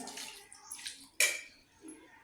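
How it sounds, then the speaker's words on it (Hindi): A cup of water poured into a cooking pot of shami kabab mixture, heard as a short, close splashing pour with one sharp splash burst partway through and no talk. "अब मैं ये 1 कप पानी डालती हूँ।"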